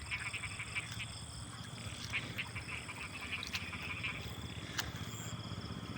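Frogs croak densely in a rice paddy after rain, a continuous low chorus of rapid pulsing calls with insect chirps and faint clicks over it, fairly quiet and distant, with no voices.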